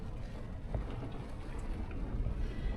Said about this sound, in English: look at the wind there, blasting over there